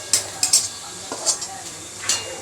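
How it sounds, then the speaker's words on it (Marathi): Onion being sautéed in oil in a pan until reddish-brown, with a few scattered spatula scrapes and soft clinks of metal over a faint sizzle, loudest in brief bursts. "तर आता आपला कांदा चांगला मस्तपैकी लालसर परतून झालेला आहे"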